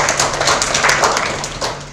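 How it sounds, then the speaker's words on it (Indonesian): Students in a classroom clap their hands, a brief round of quick, fairly loud claps with no one speaking. "Tepuk tangan."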